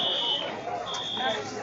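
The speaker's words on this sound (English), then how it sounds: "once again pulled the fire alarm" A fire alarm sounds with a shrill, steady electronic buzzing tone that briefly drops out and returns, heard loud and close, with people speaking over it.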